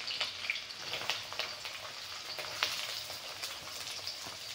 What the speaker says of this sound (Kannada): ಫ್ರೈ ಆದಮೇಲೆ ನಾನು ಈರುಳ್ಳಿ ಹಾಕ್ಕೊತಾ ಇದ್ದೀನಿ.